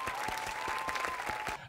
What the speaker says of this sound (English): The kid clapping.